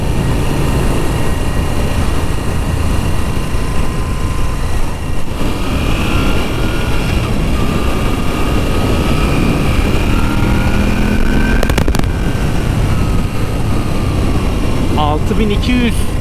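A Moto Guzzi V7 III Carbon motorcycle engine burbles steadily at low revs, a constant loud rumble mixed with wind noise while riding, with a brief whine rising near the end.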